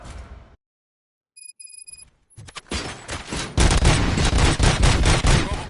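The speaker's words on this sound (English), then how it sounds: "Gunshots? What's going on?" Sustained gunfire erupts in the video game Robocop Rogue City after a brief quiet, with a few beeping tones first, then a loud, dense barrage of rapid shots and bursts that keeps building.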